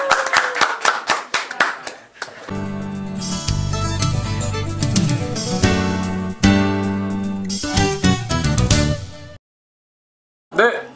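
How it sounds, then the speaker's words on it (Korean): Audience clapping to welcome a guest at a poetry evening in a traditional teahouse, claps rippling at first and then giving way to a bright, dense, loud stretch with strong tonal layers, ending in a sharp cut and a brief pause. "큰 박수로 모셔보도록 하겠습니다"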